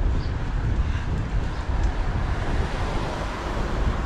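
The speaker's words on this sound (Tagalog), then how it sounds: "lakas ng hangin." Strong wind gusts across the microphone outdoors on a cool autumn evening, a loud, steady roaring rush with no clear breaks and no talking.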